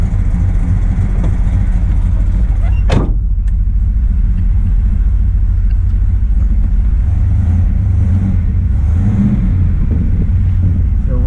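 A 1970 Oldsmobile 442 W-30 engine idles steadily up close, a low smooth rumble with a brief sharp click near the start and no talking.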